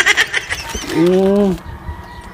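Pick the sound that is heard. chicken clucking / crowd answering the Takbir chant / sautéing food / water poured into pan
chicken clucking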